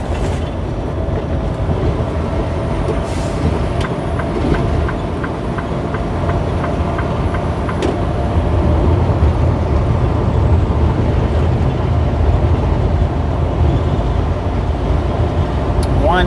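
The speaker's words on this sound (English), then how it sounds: "General Manifest train." A freight manifest train hauled by a four-locomotive lash-up passes on a line between Friona, Texas and Erick, Oklahoma, with a loud, continuous rumble of engines and rolling cars and a rhythmic clickety-clack of wheels on the rail joints.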